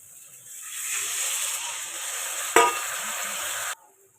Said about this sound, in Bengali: কষানো হয়ে গেছে, এর মধ্যে আমি জল ঢেলে দেবো।